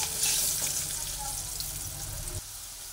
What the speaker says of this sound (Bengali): হলুদ গুঁড়ো দিয়ে পেঁয়াজটাকে ভালোভাবে ভেজে নিচ্ছি।